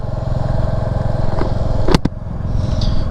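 A motorcycle rides along a road trip route toward Puri and Daringbadi, its engine giving a steady close rumble with a couple of sharp clattering knocks midway.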